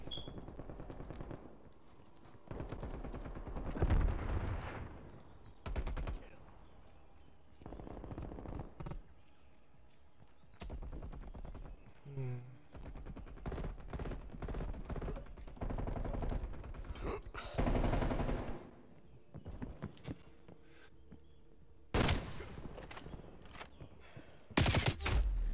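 Gunfire from Call of Duty plays in repeated bursts across the whole stretch, some loud, with a brief lull midway. A voice talks intermittently underneath.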